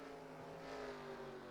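Race car engines drone steadily in the NR2003 racing game, a faint continuous hum with no clear passing peak.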